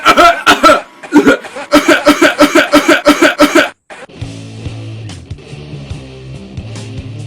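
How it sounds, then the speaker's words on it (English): Harsh coughs repeat in a rapid, looped rhythm for several seconds, then stop abruptly as a rock riff with drums begins. "he starts coughing, and they just put that on repeat"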